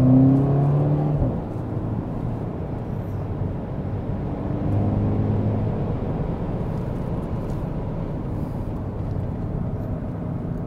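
A 2020 MINI John Cooper Works Clubman's exhaust note drops sharply and pops as it changes gear, then settles into a steady, droning engine rumble while cruising.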